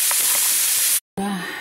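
Chopped vegetables, eggplant among them, fry in a pan for a vitamin salad with a loud, dense sizzle. The sizzle cuts off abruptly, and a moment later a different brief sound follows.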